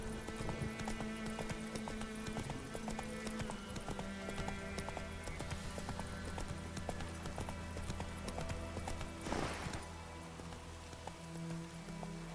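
Roach the horse trotting in The Witcher 3, a steady rapid clip-clop of hooves over a continuous bed of rain-like ambience, with a brief louder rustle partway through.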